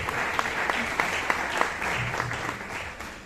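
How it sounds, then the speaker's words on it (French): Audience applause at a conference, steady clapping from a crowd with a few sharper claps standing out, moderately loud and continuous. "Est-ce qu'on peut applaudir pour lui, s'il vous plaît?"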